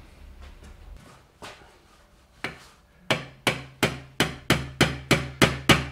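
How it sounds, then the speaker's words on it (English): A hammer taps repeatedly, seating a sensor while installing a KTM motorcycle fan kit, starting with a few soft hits and building into a steady run of sharper, evenly spaced knocks. "You might need to tap it gently with a hammer."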